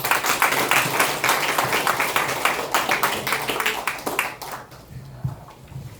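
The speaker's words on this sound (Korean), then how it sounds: "여러분 시크로스를 위해서 다시 한번 박수 부탁드립니다" A congregation at a Korean church anniversary thanksgiving service applauds a worship singing group. Many hands clap in a lively, fairly loud burst that thins out near the end.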